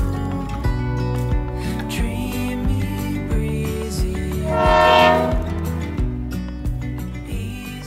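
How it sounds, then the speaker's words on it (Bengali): Sealdah Bikaner Duronto Express at a railway station, with loud sustained tonal horn-like drones and rumbling rail noise throughout, swelling around the middle, close and prominent with no talk. "ট্রেন দিয়ে দিয়েছে, আমরা ট্রেনের দিকে এগিয়ে যাচ্ছি"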